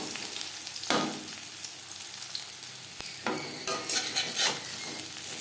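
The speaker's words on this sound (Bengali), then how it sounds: "ভেন্ডি ভাজবো মিডিয়াম ফ্লেমে" Okra slices fry in hot oil over a medium flame, a steady close sizzle broken by a few scraping stirs of a spatula against the pan, with no voices.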